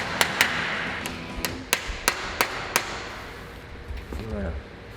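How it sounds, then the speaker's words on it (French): A small hammer taps a wooden guitar neck part to seat it fully, about eight sharp knocks in an irregular series, close and moderately loud, followed by faint handling noise. "Je vais vérifier si en tapotant avec un maillet, mon maillet, il s'enfonce bien jusqu'au bout."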